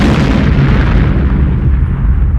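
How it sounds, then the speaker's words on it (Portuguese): A huge deep explosion like the 1883 Krakatoa volcano eruption, a loud sustained low rumbling boom that fades slowly over a couple of seconds. "Foi a explosão do vulcão Krakatoa"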